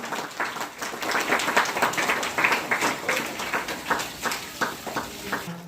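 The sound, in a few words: loud applause for Mahendra sir at school ceremony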